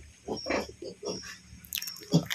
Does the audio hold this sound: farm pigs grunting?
yes